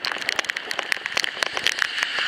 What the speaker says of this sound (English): Look at that wind and that rain circling around,